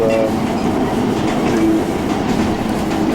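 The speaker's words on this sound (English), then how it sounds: "This train is for Mallaig." Train on the West Highland Line to Mallaig near Spean Bridge, heard from inside as a loud, steady rumble and rattle of the carriage with faint clickety-clack of wheels and a brief tonal squeal.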